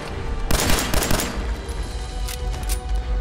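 Gunfire from the video game Fallout 4: a loud burst of rapid shots at the start, followed by a few sharper isolated cracks over a steady game background.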